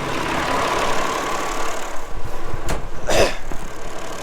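Massey Ferguson 399 tractor running a topper through long, lush grass, a steady low engine drone close by with a few louder bursts and rattles partway through, no talking.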